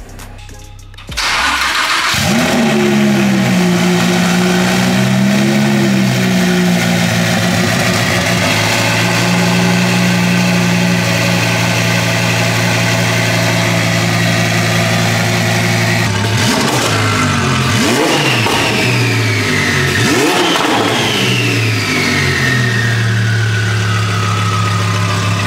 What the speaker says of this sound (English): This is the first start since fitting the turbo kit.